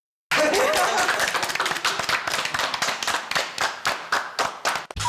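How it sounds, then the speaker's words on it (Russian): Close, dense clapping from a small group at an indoor birthday gathering, with quick irregular hand claps running throughout, some light laughter mixed in, and the clapping thinning toward the end. "А теперь аплодисменты для нашей Светочки."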